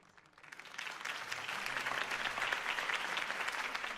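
Crowd applause in a Batman video game after a campaign speech by Harvey Dent, swelling from quiet into broad sustained clapping that holds steady.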